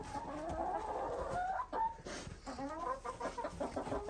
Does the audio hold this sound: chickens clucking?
yes